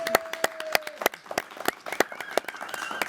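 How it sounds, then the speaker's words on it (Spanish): Scattered clapping from a small audience welcoming two guests to an interview about women's football pioneers, a handful of distinct, irregular claps close by rather than a dense ovation. "recibir con un fuerte aplauso a Ingrid Bravo y a Berta Orduña"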